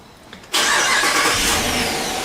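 A 2014 Jeep Grand Cherokee engine cranks briefly and catches after an ECM reflash, settling into a loud, steady idle close by with no talking.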